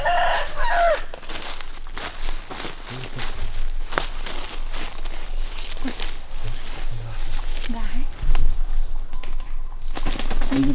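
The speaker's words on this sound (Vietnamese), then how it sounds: "Con gà to thật đấy" A large chicken in a forest setting, with clucks and short crowing calls scattered over steady rustling background noise, moderately near.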